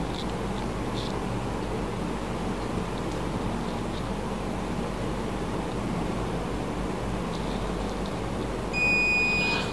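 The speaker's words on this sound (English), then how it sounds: "we started getting the low level alarm, LED plus the audible sound also" A low-level alarm buzzer on a homemade wireless water tank level indicator starts up near the end as a thin, steady high-pitched electronic tone, cutting in over a constant loud rushing noise.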